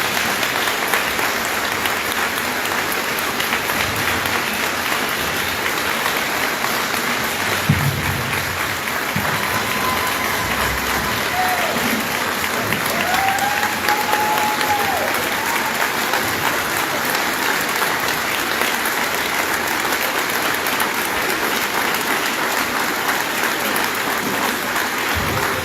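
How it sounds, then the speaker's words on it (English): Sustained audience round of applause at a RECA Missouri resources event, a dense, even wash of many hands clapping continuously for a long stretch, with faint crowd noise beneath and no speech. "So give them a round of applause."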